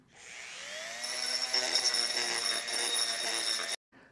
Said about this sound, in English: I used the same Dremel tool just to clean that up